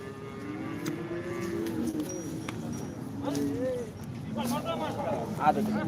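A calf moos in drawn-out, wavering calls at a livestock market in Modnimb, under people talking nearby, with some background shuffling and clatter.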